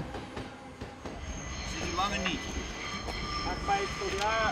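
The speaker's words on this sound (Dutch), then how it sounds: "de treinen razen hier gewoon voorbij" A train races past on a Dutch railway, with a broad rumbling roar and metallic wheel squeals that build in loudness over several seconds.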